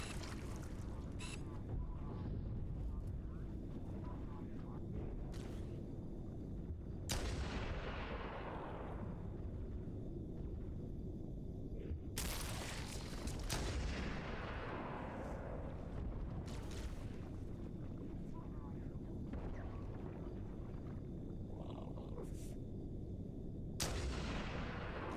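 Sniper rifle fire in Halo: Combat Evolved: four or five sharp, fairly faint cracks spread over the span, each trailing off in a long echoing decay over a steady low background rumble.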